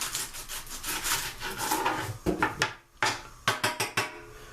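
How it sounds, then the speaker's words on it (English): Knife chopping an onion on a cutting board, starting as steady rapid rubbing strokes, then sharp distinct knocks on the board in quick clusters, close and clear with no talk. "we're going to chop up our onion"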